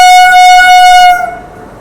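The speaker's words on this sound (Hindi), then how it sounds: "Back to back honking, Kanpur Shatabdi back to back." A Kanpur Shatabdi Express train horn blares loud and close in one sustained, steady multi-tone blast, then cuts off about two-thirds through, leaving a short fading rumble.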